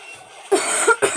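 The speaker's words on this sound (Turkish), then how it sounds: "Öksürdüm." A couple of short, harsh coughs close to the listener, one right after the other, following a brief quiet moment.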